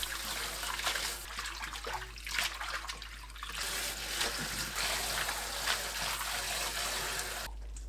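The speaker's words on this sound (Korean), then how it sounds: "찬물로 헹굽니다." Blanched spinach rinsed under cold running water, a steady close splashing and trickling from the tap with small shifts as the leaves are moved about, ending abruptly.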